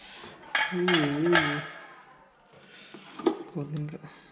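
A spoon clinks and scrapes as rice is served from a rice cooker into a bowl, with a few short metallic taps between stretches of nearby talk.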